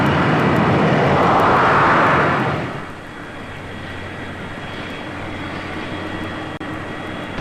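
A heavy jet airliner roars loudly on its takeoff run at a 1976 airport, a broad engine rush that swells then eases into a steady, slightly quieter drone as the aircraft pulls away.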